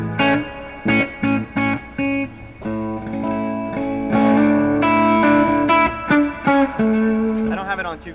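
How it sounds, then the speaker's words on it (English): Electric guitar notes and chords through a wet stereo reverb pedal ring out with lush, lingering reverb trails, played in short phrases and then sustained, close and clear. "This is a wet stereo reverb pedal."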